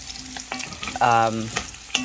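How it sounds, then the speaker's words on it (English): Potatoes sauté in a pot as the base for roasted chicken soup, a steady close sizzle and crackle with stirring scrapes. "since Olivia is sauteing them"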